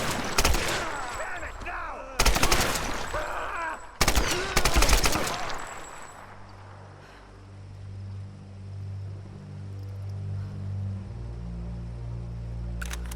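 An AK-style rifle with an underslung grenade launcher fires in Tomb Raider (2013), loud sharp rapid bursts in three clusters early on, then fading into a low droning ambience with a final distant shot.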